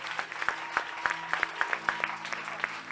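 A church congregation claps along during Sunday worship, a steady rhythmic beat of many hands, moderately loud, with a faint voice and music underneath.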